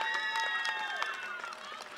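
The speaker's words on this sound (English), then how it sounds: "There we go, it's applause." Applause and scattered cheering from the crowd at an adult school graduation ceremony: a short burst of clapping with high whoops and voices mixed in, fading slightly toward the end.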